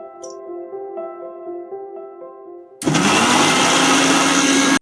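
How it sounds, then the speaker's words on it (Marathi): A mixer grinder blending muskmelon puree starts abruptly after a stretch of soft tonal background music, then runs as a loud, steady whirring roar until it cuts off at the end. "तर हे सगळं मिक्सर घालला।"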